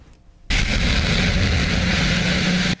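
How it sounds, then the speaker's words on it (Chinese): A Falcon 9 rocket topples and explodes on a floating landing platform: after a quiet lead-in, a sudden loud, broad roaring blast holds steady for about two seconds, then cuts off abruptly. "在降落浮动平台的时候，倾倒爆炸"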